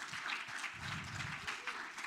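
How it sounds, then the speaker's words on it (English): An audience at a health symposium closing ceremony claps for the event sponsors, a continuous, fairly soft wash of applause from a crowd in a hall, with faint voices murmuring underneath. "Let's give them a clap."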